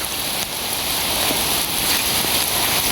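Steady, dense rain pours down during monsoon flooding, a continuous hiss of drops hitting surfaces close by, with no voices.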